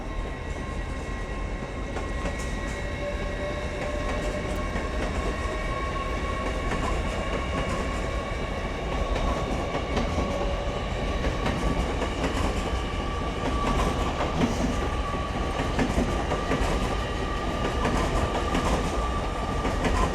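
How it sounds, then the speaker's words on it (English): An LNER Azuma train, 801221, pulls out of Doncaster station with a continuous loud rumble and rolling wheel clatter, a faint high whine above, no voices. "Departing now is your 1549 LNER Azuma service from London King's Cross through to Leeds."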